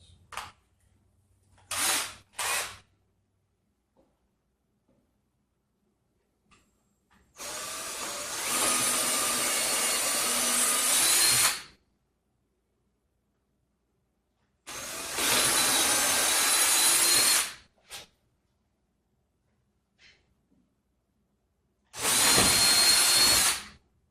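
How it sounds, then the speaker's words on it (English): A drill with a Forstner bit bores into wood in three long, loud bursts separated by quiet pauses, with a few short whirs and clicks at the start. "Forstner bit to drill in a small inset, and then come back and drill the 5/16 hole"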